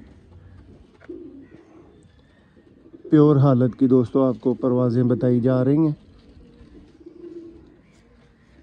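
Sialkoti flying pigeons coo in a loud, close burst of several rhythmic calls lasting a few seconds, set between quieter stretches where someone talks.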